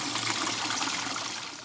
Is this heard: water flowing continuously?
yes